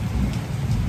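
Rain pouring down in Patna, a loud, steady wash of drops hitting surfaces, close and continuous with no speech over it.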